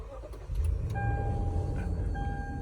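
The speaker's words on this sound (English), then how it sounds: "Keyless entry and push button start." A 2019 Lexus GX 460 Luxury starts with its push button: a soft click and brief crank, then a quiet, smooth idle with a faint electronic chime tone inside the cabin.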